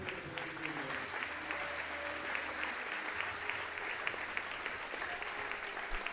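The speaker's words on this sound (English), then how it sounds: "And a big round of applause for all of our participants." Crowd applause in a high school gym at a boys basketball game between Linton-Stockton and North Knox, dense clapping sustained for several seconds at moderate volume with faint murmur.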